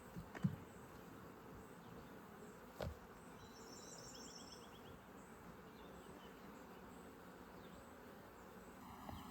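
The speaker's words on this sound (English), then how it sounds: "even though you're seeing bees flying in and out of this hive" Honeybees fly in and out of a hive, a faint steady buzzing hum with a few soft knocks and distant bird chirps in the background.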